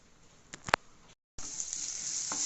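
Onions, chillies, curry leaves and mustard seeds sautéing in coconut oil, a short burst of bright sizzling that cuts out briefly, then returns as a steady crackling hiss, close and fairly quiet.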